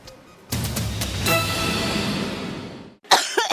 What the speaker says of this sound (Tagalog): Matigas yung ubo.